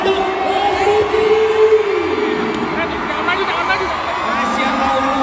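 A crowd of fans cheers and applauds for a singer at a lively welcome event in Cibubur, with high shouts, whoops and excited voices rising over steady, loud crowd noise.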